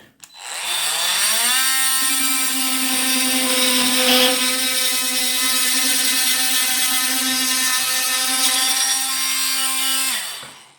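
A Parkside PAMFW 12 C3 cordless multi-purpose tool cuts through a tube with a loud, close, steady buzzing whine that holds a constant pitch for about nine seconds before winding down.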